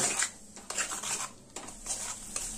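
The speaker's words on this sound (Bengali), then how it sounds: "এবার এই সব মশলা খুব ভালোভাবে কষিয়ে নেব" A spoon rubs and scrapes rhythmically across a pan as ginger and cumin spice paste with a little water is sautéed, making repeated soft, gritty strokes with a faint sizzle.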